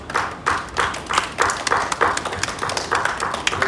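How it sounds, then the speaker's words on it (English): A gathering at a funeral service applauds in a steady round of clapping that keeps going without pause throughout. "join my family with a round of applause to celebrate the life of Hugo Francis Majesty Brunier."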